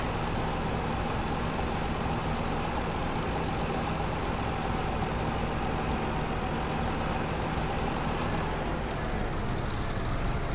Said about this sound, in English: guess we have to use our little orchard tractor.